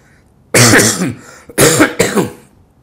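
A man gives a loud, close, harsh cough in two or three rough bursts, with a gravelly throat-clearing quality and short pauses between them.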